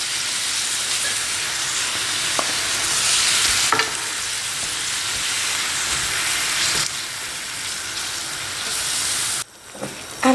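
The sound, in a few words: grated tomato cooking and being stirred in a pan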